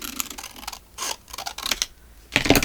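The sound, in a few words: cutting a piece of paper in half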